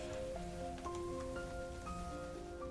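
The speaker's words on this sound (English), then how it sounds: "Yo, it's raining." Steady rain hiss in a Hyperion video game session, continuous and fairly close, with layered tonal game music or ambient chimes running over it and no voices.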